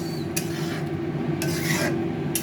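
Chickpea dal being stirred in a pan for a Bengali vegetarian dish, a steady scraping rasp of the spoon against the pan, with a few brighter strokes standing out, close and continuous.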